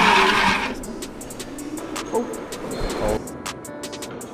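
A DIY go kart drifts on a makeshift track inside an abandoned building, with tyres squealing and skidding and the engine buzzing close by, while people talk excitedly over it.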